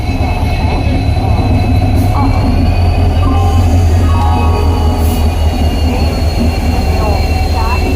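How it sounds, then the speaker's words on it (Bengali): The Howrah Puri Superfast Express rolls into a station platform with a loud, continuous rumble, metallic wheel squeals and screeching brake tones rising and falling over the heavy low drone. "আলটিমেটলি আমাদের পুরী যাওয়ার ট্রেন চলে এসেছে।"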